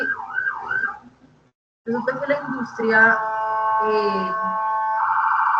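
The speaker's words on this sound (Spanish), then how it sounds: "está pasando una ambulancia" An ambulance siren wails briefly at the start as it passes. A speaker then talks over a steady electronic tone.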